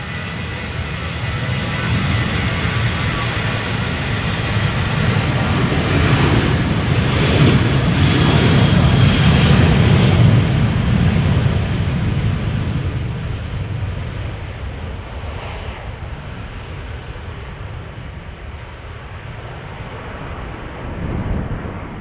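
A Transavia jet airliner bound for Naples takes off from Schiphol's Polderbaan runway, its engines swelling into a loud, broad roar that peaks midway, then slowly fades as the aircraft climbs away, with wind buffeting the microphone.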